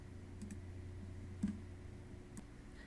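A computer mouse clicks a few times, sparse and faint, during an Excel data import, with sharp ticks spaced about a second apart over a low, steady room hum.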